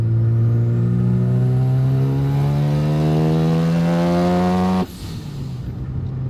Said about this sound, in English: It's just a first gas pull.